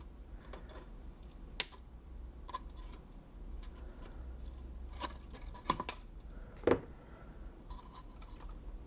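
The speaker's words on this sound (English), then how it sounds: "I'm going to cut those really close to the socket because I might reuse these wires." Wire cutters snip through colour-coded wires close to a socket inside a Marantz Model 7 amplifier being gutted for rebuild, giving a few quiet, sharp clicks spread across a hushed bench with low hum.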